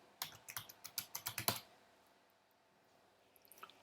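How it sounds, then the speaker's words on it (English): Quick run of about eight crisp keystrokes on a computer keyboard while entering heading text in an HTML file, close and clear, followed by near silence and a single faint click at the end. "Then I can type my text"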